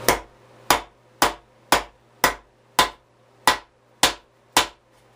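A Combat Ready EDA everyday axe chops into wood in nine sharp, evenly spaced strikes, each a loud crack with a short decay, taking place close by against a faint steady hum.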